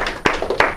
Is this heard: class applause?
yes